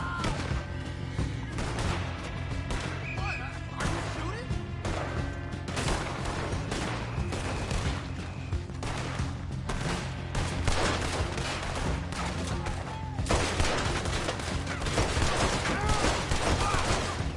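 Dense, sustained gunfire from a Red Dead Redemption 2 firefight, with repeated shots and heavy volleys crackling throughout and intensifying toward the end, while voices call out beneath the shooting.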